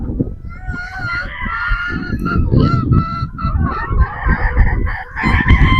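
A crowd of newly harvested pullets at a farm in Batangas keep up loud, close, overlapping clucks and honking calls throughout, with some faint talk mixed in.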